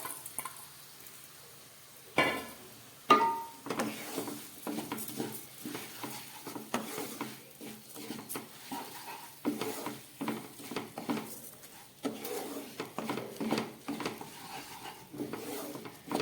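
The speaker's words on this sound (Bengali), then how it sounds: "সমস্ত সবজি দিয়ে চালটাকে আমি একটু কষিয়ে নিচ্ছি সামান্য ঘিও দিয়েছি" Rice and vegetables being stir-fried in ghee in a pot for a Bengali khichuri: quiet sizzling under repeated scraping and clinking of a spoon against the pot, in irregular stirring bursts.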